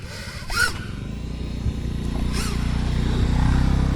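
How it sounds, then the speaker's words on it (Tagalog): A motorcycle passes close by outdoors, its engine note rising briefly near the start and again later over a steady low rumble of background traffic. "Pati yung Hans, may motor ah"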